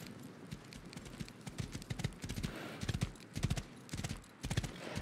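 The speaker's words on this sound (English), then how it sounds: "Horse." Horse hooves clip-clop steadily in the survival game Rust, a close, rhythmic run of hoof strikes with a brief whinny, and no talk over it.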